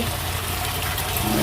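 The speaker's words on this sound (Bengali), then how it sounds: "এবার জল দেবো।" Water pours into a cooking pot of potatoes, a loud continuous rushing splash that holds steady and close throughout.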